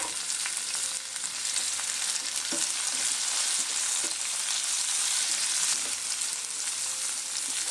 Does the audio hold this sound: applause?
no